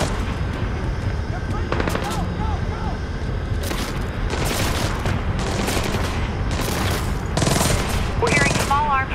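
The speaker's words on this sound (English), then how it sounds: "We're hearing small arms fire in the terminal, Sam." Small-arms gunfire in a terminal in the video game Splinter Cell: Blacklist crackles in loud bursts and volleys over a constant rumbling backdrop, with voices speaking intermittently in between.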